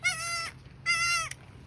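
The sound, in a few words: goat bleating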